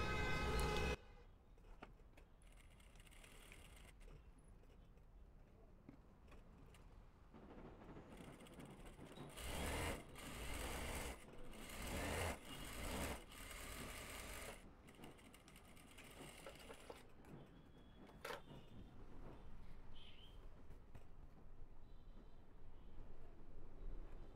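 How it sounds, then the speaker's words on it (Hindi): Sewing machine stitching ladies' elastic pants: quiet mechanical whirring with rattling bursts that swell through the middle and settle into a steady hum, faint and distant, no talk. "उसके बाद से हम सिलाई करेंगे"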